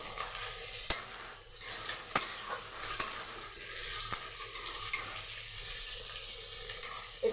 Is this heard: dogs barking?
no